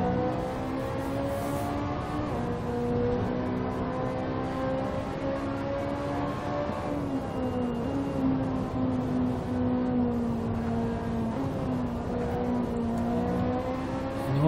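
Steady engine drone of a car driven hard along a winding mountain road in Assetto Corsa, pitch rising and dipping through 3rd to 5th gear across corners, loud and continuous with no talking.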